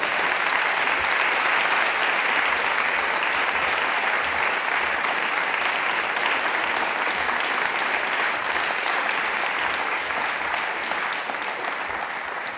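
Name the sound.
audience applause for speaker George Monbiot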